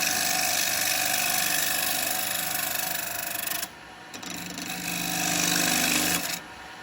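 A woodturning bowl gouge cutting a spinning piece of wood on a lathe, a loud continuous rough grinding roar with the motor hum underneath, briefly easing as the tool lifts off before biting again, no talk.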